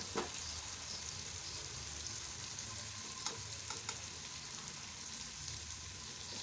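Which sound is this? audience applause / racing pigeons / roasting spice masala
roasting spice masala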